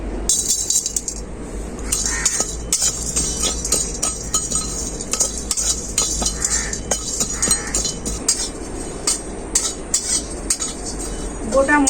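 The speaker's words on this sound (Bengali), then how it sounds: "একসাথে আমি শুকনো কড়াই এগুলো ভেজে নেব" Whole spices including mace, nutmeg and fenugreek rattle and clink against a dry metal wok as they are roasted and stirred, with steady scraping and tapping throughout and no talking.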